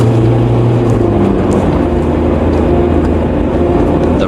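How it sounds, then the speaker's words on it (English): A car engine hums low and steady as the vehicle drives off, a loud, continuous motor drone with a slight shift in pitch early on and no voices. "He entered his car, and he sped off in the direction of Tidmouth Sheds."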